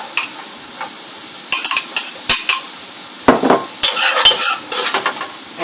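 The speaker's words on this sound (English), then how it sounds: "Right, I'm gonna add some green pepper." Chopped green pepper going into a hot pan for baked ziti, with steady sizzling and clatters of a spoon stirring against the pan in bursts, loud and close, no talking.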